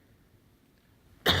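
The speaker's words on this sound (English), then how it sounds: "I just asked you that so I can cough." A single sharp cough bursts out at the very end after near silence, close and loud, during a health summit presentation.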